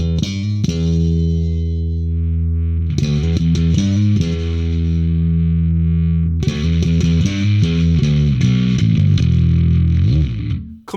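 Bass guitar with a clean tone through a Blackstar Unity 700 amp, loud sustained notes and quick runs played alone, deep and full with a few pauses between phrases.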